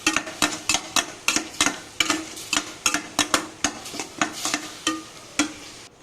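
A spoon stirring egg gravy in a pan gives rapid, regular scraping clinks, roughly twenty sharp strokes in quick rhythm, close and distinct with a faint sizzle beneath and no voices.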